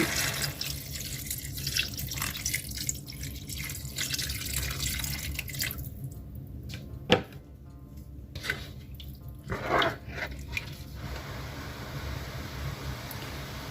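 Water pours and splashes from a tap into a cooking pot for a Thai Isan dish made with wild dandelion greens, a steady running stream with a few drips and clunks, close and alone.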